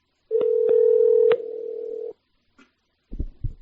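Telephone call tones while redialing a dropped call: a steady loud dial-type tone with a few clicks, then a softer tone, followed by brief clattering handling noises near the end, with no talking.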